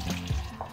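Water poured into a cooking pot over dried white beans, just enough to cover them: a short, soft splashing burst, close and alone, with no talking.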